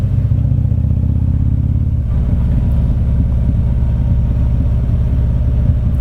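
A Harley-Davidson Street Glide cruises the empty Macquarie Pass road, its engine a loud, steady low throb close to the microphone, with a brief shift in tone about two seconds in.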